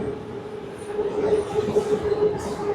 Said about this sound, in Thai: โอ้รถไฟฟ้ามันแล่นเนาะ